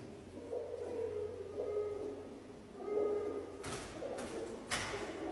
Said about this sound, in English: Look, there's quite a lot of pigeons in here.